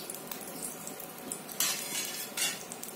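Soft sizzling of spices, ginger and garlic sautéing in oil with green chilli and curry leaves for a Kerala prawn roast, with a spoon scraping and clinking against the pan in quiet, irregular strokes.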